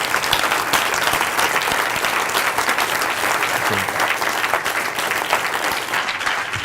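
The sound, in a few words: audience applause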